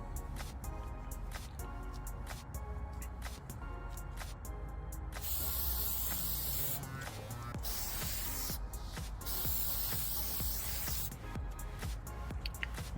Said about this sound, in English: Now we'll spray step 2.